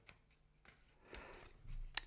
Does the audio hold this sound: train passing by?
no